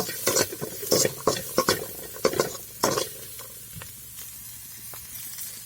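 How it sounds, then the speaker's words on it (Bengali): Peas being fried and stirred in a pan with salt, turmeric, cumin and meat masala, with a run of close scraping stirs over a soft sizzle that fades to a quieter simmer. "এখন ভালো করে ভাজি করে নেব।"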